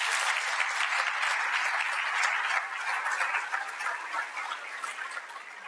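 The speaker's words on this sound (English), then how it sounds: "Could you please give him a round of applause?" Lecture audience applauding at a university talk, dense steady clapping that fills the room and slowly tapers off toward the end, with no speech over it.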